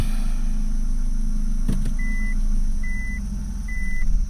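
A Mitsubishi GDI car engine idles steadily with a low, loud hum, a brief clunk as it is dropped from park into gear, then a faint repeating beep chimes three times over the running engine.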